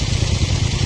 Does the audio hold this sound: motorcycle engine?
yes